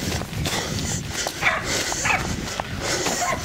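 Hunting dogs bark and yip repeatedly during a wild boar hunt in Queensland scrub and cane country, several sharp barks cutting through a steady rustling, windy outdoor background.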